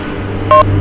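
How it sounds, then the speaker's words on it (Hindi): A telephone number being dialed, with a pair of short steady dial tones sounding together in a brief burst over a low background hum. "तू ऐसा कर, उस नंबर पे डायल कर।"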